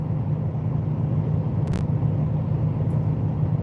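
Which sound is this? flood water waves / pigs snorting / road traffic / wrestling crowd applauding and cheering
road traffic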